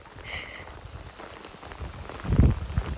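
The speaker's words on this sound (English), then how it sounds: "Look at how strong the hail is." Hail patters down hard around a fisherman on San Pablo Bay during a rainstorm, a dense steady rattle that swells louder toward the end, with a few heavier thumps close by.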